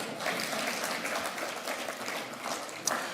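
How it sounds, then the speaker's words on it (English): An audience claps at a speech by a state governor, uneven clapping from a crowd with a few sharper claps standing out, moderately loud and sustained throughout. "Clap for the people, please."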